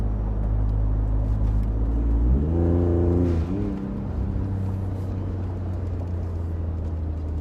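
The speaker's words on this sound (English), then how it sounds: "give you guys a little better sound of the Flowmaster FlowFX muffler on the 2017 Raptor" A 2017 Ford Raptor fitted with a Flowmaster FlowFX muffler idles with a deep exhaust drone, then revs up briefly and drops back to a steady idle, heard up close.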